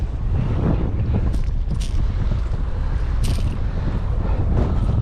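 Wind buffets the microphone at sea on a fishing trip in Poole Harbour, a loud, steady roar with low rumbling gusts and no talk.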